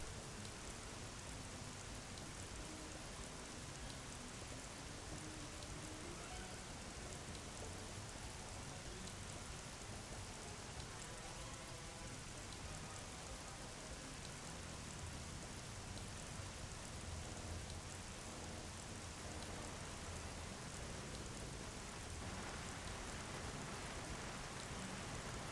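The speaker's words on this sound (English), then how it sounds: "it rains like super loud" Loud, steady rain in Bee Movie: The Game, a dense hiss of rainfall on surfaces that fills the whole stretch without letup, with no voices over it.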